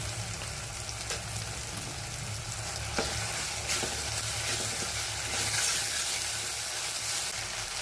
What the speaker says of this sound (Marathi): आता त्यामध्ये आलं लसूण मिरची कोथिंबीरची पेस्ट घालून घेऊया।